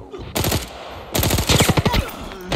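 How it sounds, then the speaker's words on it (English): Loud, rapid gunfire in a video game, with two long bursts of fast automatic shots close by and a brief gap between them, the second burst ending in a few separate cracks. "I'm getting shot."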